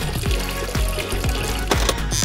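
Water pouring steadily into a mini water fountain, a continuous gurgling fill with low pulsing surges, close and moderately loud with no talking.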